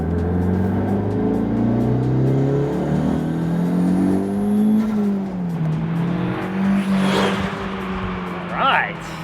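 A twenty-year-old Audi TT, rebuilt for more power, pulls hard under acceleration while driving, its engine note climbing through the revs before easing off, loud and close from inside the car, with a voice briefly heard.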